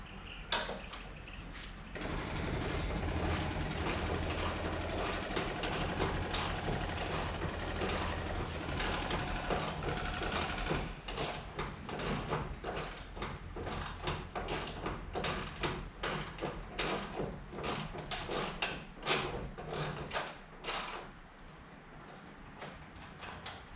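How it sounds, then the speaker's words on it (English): Rapid ratchet clicking as a nut is backed off a Ford Capri engine mount with a 1600 crossflow engine, a steady run of sharp close clicks that grows more distinct and evenly spaced toward the end, no talk. "Just pull the nut off and I'll leave the bolt in there for now."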